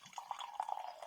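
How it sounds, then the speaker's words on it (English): Sparkling cider, a 2019 Dabinette, being poured into a glass, giving a soft steady trickle with faint fizzing and small drips, quiet and close, with no voices. "Let's pour it out and see."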